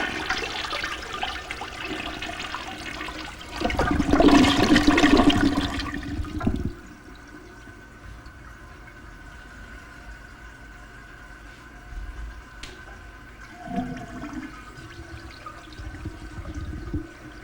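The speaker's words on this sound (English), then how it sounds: "like flushing the toilet" A toilet flushes in one loud rushing surge of water that lasts a couple of seconds, then fades into quiet background hiss and faint distant rumbles.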